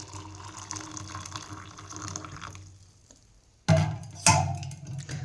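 Water runs and trickles close by in a cattle shed, fading briefly before two sudden splashy gushes as it is poured out; no one speaks.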